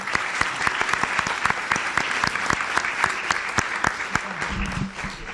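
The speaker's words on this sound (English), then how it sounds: "Please give a warm round of applause for His Excellency." Audience at a higher education strategy event in Bahrain gives a warm round of applause, with dense, even clapping and sharp individual claps standing out, sustained throughout.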